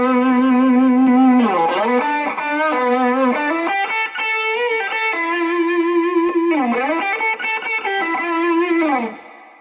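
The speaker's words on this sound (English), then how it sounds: "Turn on the blues driver after that. That is a lower gain pedal, so it's going to increase the volume." An electric guitar plays sustained, bending held notes through a Boss Blues Driver overdrive pedal, first clean-ish then louder and grittier, loud and close with a slight chorus-like shimmer and reverb, no talking.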